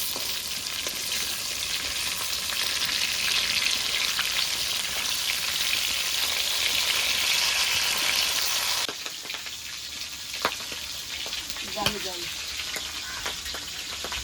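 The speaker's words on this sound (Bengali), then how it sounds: "দেখো বন্ধুরা, মাছগুলো সব ভাজা হয়ে গেছে, কিরকম ফুটছে তেলগুলো।" Boal fish pieces fry in bubbling hot oil in a pan, making a loud, dense, continuous sizzle that drops and thins partway through, with a few pops and crackles afterward and some quiet talking.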